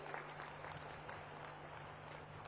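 An audience applauding at the closing ceremony of the Bastar Pandum 2026 festival, a faint, distant, steady patter of clapping from a large crowd with a low electrical hum beneath.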